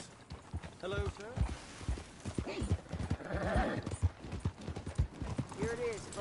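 Horse hooves clip-clopping at a walking pace in Red Dead Redemption 2, a steady run of close hoof knocks with vocal sounds and a brief whinny-like call over them.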